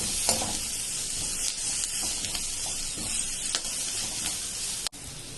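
Onions being stirred in a pan with turmeric and garam masala, a steady soft scraping and sizzling close by with a few sharper spoon knocks, no voices.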